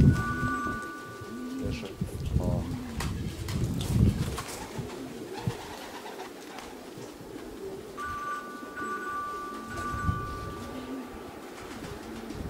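Racing pigeons gathered at a Polish loft coo in repeated soft, throaty calls close by, with light fluttering and a faint voice in the background.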